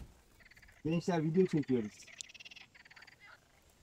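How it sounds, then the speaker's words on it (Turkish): Frogs croak in a dense pulsing chorus outdoors in nature beside a monoblock off-road caravan, loud at first and then fading to quieter rhythmic calls, while someone speaks briefly. "Kurbağa sesleri."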